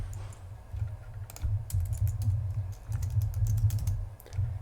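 Fingers tap out a name on a computer keyboard, a quick run of light, crisp keystrokes in uneven bursts over a low steady hum, close and fairly quiet.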